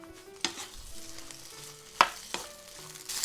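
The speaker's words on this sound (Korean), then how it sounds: "자 이렇게 한 2-3분만 볶아주겠습니다." Shishito peppers, onion, tomato and anchovies stir-fry in olive oil in a wok over high heat, giving a soft, steady sizzle broken by a few sharp clacks of stirring.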